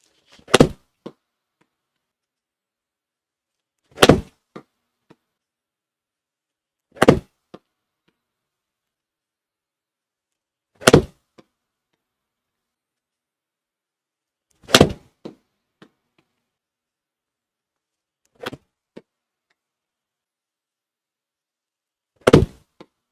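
Golf balls struck with a 7-iron at an outdoor driving range: seven sharp, solid impacts spaced about every three to four seconds, each followed by a faint tick, with quiet between shots and no talking.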